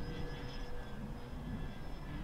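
A Dynam P-61 Black Widow RC foam warbird, 1500mm on 4S power, flies overhead with a steady electric motor and propeller drone that holds at a constant, fairly distant level.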